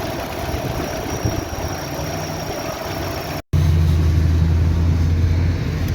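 A Chevrolet Cruze engine running after its cylinder head was resurfaced for coolant mixing into the oil: a steady droning hum that cuts out for a moment, then returns louder with a deeper low rumble, no voices.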